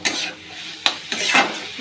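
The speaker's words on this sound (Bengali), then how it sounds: "ডালগুলো দিয়ে কষিয়ে নিচ্ছি" Soaked lentils stir-fried with spices in a pan, with a sizzling hiss broken by a few sharp scrapes and clinks of the stirring utensil, close and without voices.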